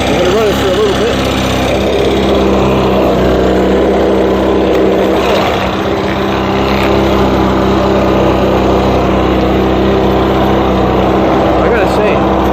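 A Stihl BR 600 backpack leaf blower, run to clear old fuel from its carburetor, keeps up a loud, steady high-pitched engine drone close by for the whole stretch.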